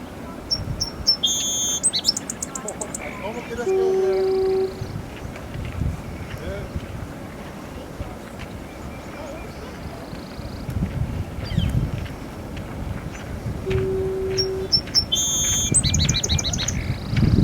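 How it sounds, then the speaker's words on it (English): A song sparrow sings bright, repeated trilling phrases at the start and again near the end, with softer chirps between, over steady wind and low rumble outdoors. "Song sparrow, bird that's well named"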